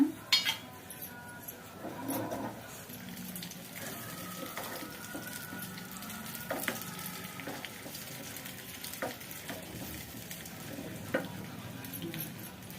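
Cashews, almonds and raisins fry in hot ghee in a pan for a mung dal payasam, a steady close sizzle broken by occasional clinks and stirring scrapes, with no talking.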